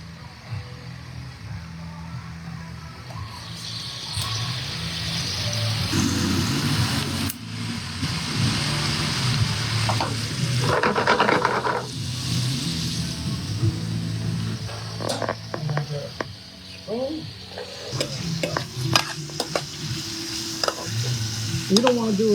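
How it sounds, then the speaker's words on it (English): Honey garlic sauce for salmon sautés in a pan with a continuous sizzle and frequent stirring scrapes and clinks, growing busier toward the end over a low rumbling background. "but first I'm just gonna saute it up a little"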